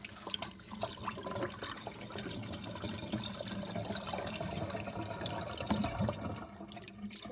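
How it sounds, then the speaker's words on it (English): A small toy-sized toilet flushes, a steady rush of running water pouring and gurgling for several seconds at low level, with no voices over it. "So I'm gonna flush this toilet now."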